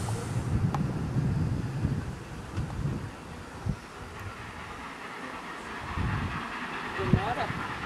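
Locomotive 155 climbing a mountain railway toward Rio Negrinho near São Bento do Sul, Santa Catarina, Brazil, gives a steady low rumble and chug heard from a distance, partly buried under strong wind buffeting on the microphone.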